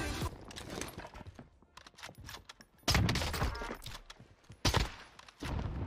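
Video game gunfire with a shield mechanic, sharp broadband shots at a moderate distance, including a loud blast near three seconds and another near four and a half seconds, over busy game noise.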